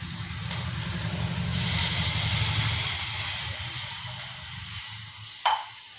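Spices for tempering dropped into hot oil on a gas stove burst into a loud, bright sizzle that swells and then settles into a steady hiss, with a sharp clink near the end.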